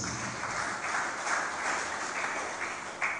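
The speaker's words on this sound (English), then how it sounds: "Let's clap for Jesus." A church congregation claps together for Jesus during a live-streamed sermon, a steady dense wash of many hands lasting a few seconds at moderate level, with a slight swell near the end.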